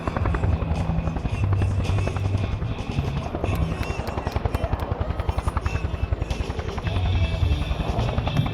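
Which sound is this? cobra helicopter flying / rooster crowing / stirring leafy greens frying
cobra helicopter flying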